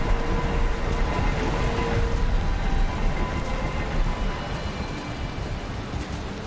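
Rain during a storm in the video game Valheim, a continuous broad hiss of downpour with a faint low rumble underneath, easing slightly toward the end, no speech.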